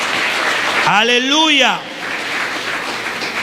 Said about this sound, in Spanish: Denle un aplauso para el Señor